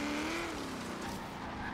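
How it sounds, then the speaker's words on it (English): An off-road Jeep with a V8 engine in Forza Horizon 3 drones steadily and loudly in a brief burst, its engine note holding roughly constant under a rough rumble. "And it sounds like a V8."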